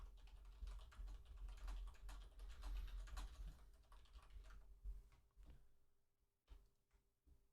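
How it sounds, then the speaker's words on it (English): Rapid, steady clatter of a computer keyboard as someone types chat messages while playing Guild Wars Nightfall, the keystrokes close and fairly faint, thinning to a few isolated taps near the end. "I'm just typing in chat here"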